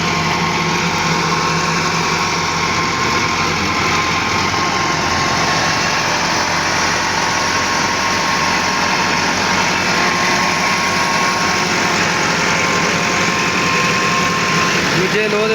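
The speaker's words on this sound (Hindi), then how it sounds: "दूजे लोह दे विच ट्रैक्टर चल रहा है जी।" A Massey Ferguson 375 diesel tractor engine (2010 model, WSK diesel pump) runs steadily at a constant idle-like drone, loud and close, with a faint continuous whine throughout.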